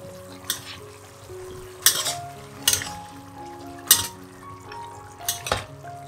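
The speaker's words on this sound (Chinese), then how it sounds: "加入盐、糖、胡椒粉、素蚝油，炒均匀" Rice noodles stir-fried in a wok with salt, sugar, pepper and vegetarian oyster sauce, a continuous close sizzle punctuated by several sharp metallic clanks of a spatula scraping and tossing, no voices.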